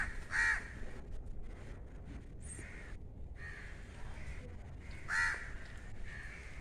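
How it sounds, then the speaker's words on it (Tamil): Two crows fighting outdoors give two sharp, loud caws several seconds apart, with softer calls in between over a quiet, steady background. "காக்காவும் சண்டை போட்டுக்கிட்டு இருக்கு பாருங்கள்."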